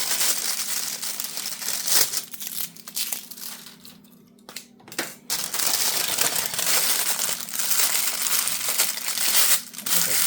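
Paper is crumpled and folded while crafting with tape, giving loud, close, continuous crinkling and crunching with brief pauses, including a short near-silent gap midway.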